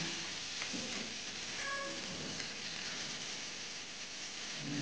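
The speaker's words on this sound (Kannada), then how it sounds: "ಈಗ ಅದಕ್ಕೆ ಸ್ವಲ್ಪ ಪುದೀನ ಹಾಕ್ಕೊಂಡು ನೀಟಾಗಿ ಫ್ರೈ ಮಾಡ್ಕೊಳ್ಳೋಣ" Mint leaves frying in a pan with fennel and cardamom for a simple pulao, a steady soft sizzle and hiss throughout with a few faint stirring scrapes.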